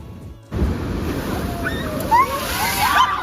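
Sea waves splash and wash ashore at Calangute beach in Goa, a broad steady surf roar with wind buffeting the microphone, rising after a brief quieter start and holding loud throughout.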